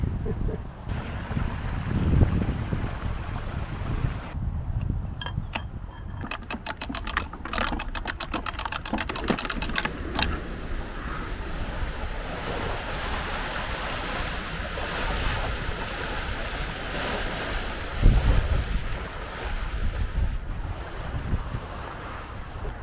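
Rapid metallic ratcheting clicks from a canal lock's paddle mechanism, then a long steady rush of churning water pouring in as the lock fills, close and continuous.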